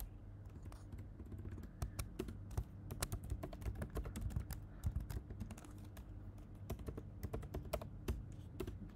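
Steady, quiet typing on a computer keyboard during a Python programming lesson, with rapid, irregular key taps continuing throughout and no talk.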